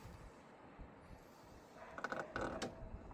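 A Hyundai i30 front bumper pulled free by hand, giving faint creaks and a short cluster of clicking, ratcheting snaps from its plastic fittings near the end, against a low background hiss.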